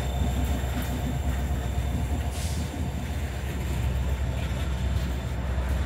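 A Norfolk Southern freight train hauled by EMD locomotives rolls past nearby. Heavy, steady rumbling and clattering wheels continue throughout, with occasional metallic squeals over the constant roar.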